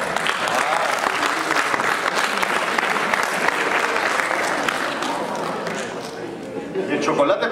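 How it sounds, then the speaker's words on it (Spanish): A crowd applauds a prize winner at a UCIC team event, with dense, sustained clapping and lively chatter and voices mixed in throughout, the clapping thinning briefly before swelling again at the close. "Por aquí adelante un aplauso para ella, por favor."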